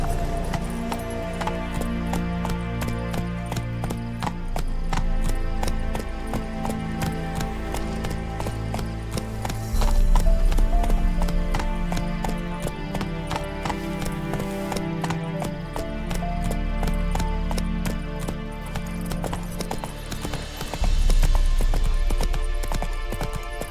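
A horse gallops in The Witcher 3: Wild Hunt with continuous rhythmic hoofbeats at close range, loud and sustained over a dense layer of game music and ambience.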